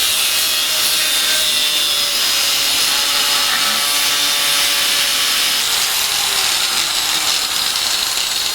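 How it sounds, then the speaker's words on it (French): A saw cuts through the main body of a replacement camper door lock part, a steady continuous rasping that stays close and loud for the whole stretch without letup. "Tracé approximatif, puis découpe du corps principal."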